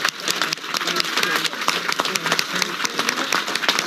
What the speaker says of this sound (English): let's get a quick applause for Pamela Price